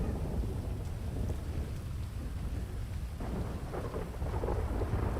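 Steady rain pours throughout with a deep rumble of thunder rolling underneath, a dense continuous storm wash in a GTA roleplay video game, with no voices.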